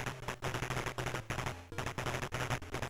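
Rapid, evenly spaced bursts of retro game gunfire from Commando, fired continuously by enemies, loud and up close with no talking over it.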